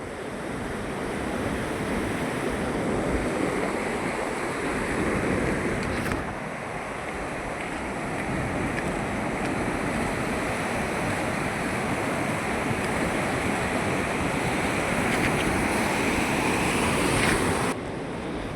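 The flooded Godavari River roars continuously at close range, a dense, unbroken wash of churning noise with no voices.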